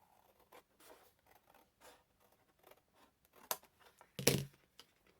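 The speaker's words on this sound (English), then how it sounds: "I would normally use the trimmer, but I'm going to use scissors today." Scissors snip through folded card for a tri-fold Miura-ori card blank: a run of soft, irregular cutting strokes ending in a couple of sharper, louder snips close by, with no talking.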